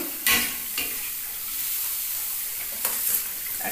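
Spices and peanuts sizzle and get stirred in a pan for a homemade singara filling, a close steady fry punctuated by a few sharp spatula scrapes and clacks, no talk.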